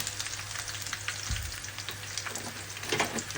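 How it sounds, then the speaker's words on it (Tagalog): A pan-fried pork chop sautéed with calamansi and soy sauce sizzles steadily and close, with a low thump from stirring partway through. "Gisa-gisa lang natin."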